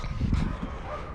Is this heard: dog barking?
yes